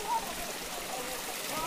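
Steady broadband rush of a waterfall in hill country near Rurur village, continuous and fairly faint, with a brief faint voice-like tone near the start.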